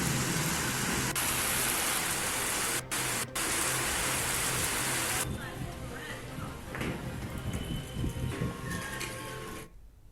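Heavy downpour across district areas of Rajasthan, a dense steady roar of rain throughout, shifting to a more textured patter midway before cutting off near the end.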